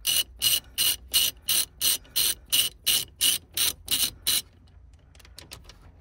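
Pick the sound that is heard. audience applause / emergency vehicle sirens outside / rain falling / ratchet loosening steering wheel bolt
ratchet loosening steering wheel bolt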